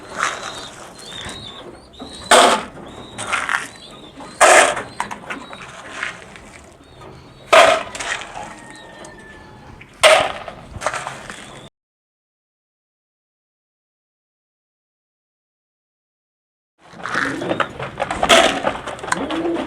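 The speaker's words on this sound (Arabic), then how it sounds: "نحط الاكل للطيور كويس اهو" Pigeons coo and flutter nearby while being fed grain, among scattered rustling and pecking sounds, with a stretch of silence before the birds resume.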